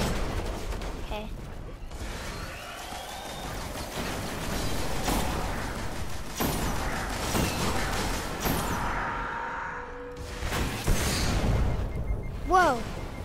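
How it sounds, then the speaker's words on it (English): A massive explosion in the video game Destiny booms loudly amid a dense, continuous barrage of game gunfire and effects, with talk over it. "Whoa, that's a massive explosion."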